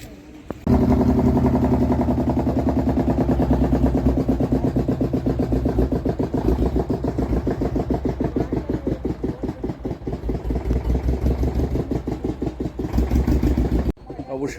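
A boat engine runs steadily as the boat pulls in at the Dayapur ghat in the Sundarbans, a loud, continuous low throbbing chug that holds for most of the stretch and cuts off near the end.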